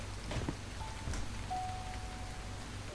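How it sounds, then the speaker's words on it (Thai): Steady, even rain falling in the video game Starbound, a dense wash of drops around a house with a few faint tonal game sounds over it, no voices. "แม่งฝนกดสาดเข้ามาในบ้านด้วย"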